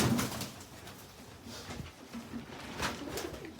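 Quiet, low cooing from a domestic flying pigeon in a hobby keeper's flock comes in soft, scattered phrases, with a slightly stronger burst near the end.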